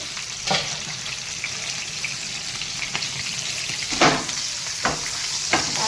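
Dried red chillies, green chillies and curry leaves hit hot oil with a steady close sizzle and crackle, punctuated by several sharp spattering bursts, during preparation of cauliflower Manchurian.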